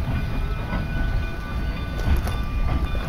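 A train rolls steadily past on the rails, a continuous loud rumble with faint clickety-clack and high metallic squeal, close by, with no talking.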